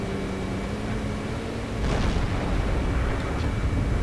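A tank cannon in a video game fires a heavy booming shot that rolls into sustained rumble, with a fainter second report following shortly after, all over constant low engine drone.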